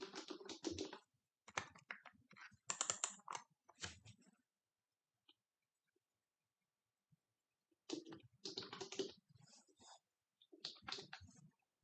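Someone types a username and password on a computer keyboard, close and crisp, in quick bursts of clicky keystrokes separated by a pause of several seconds in the middle.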